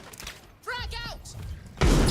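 Frag grenade blast in the shooter game XDefiant: a sudden loud, broad roar erupts near the end, right after a short burst of voice-like tones, and carries on to the close.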